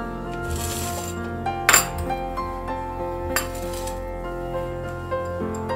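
Chopped onion and rock salt being mixed in a bowl, with a few sharp clinks of a utensil against the bowl over a quiet background.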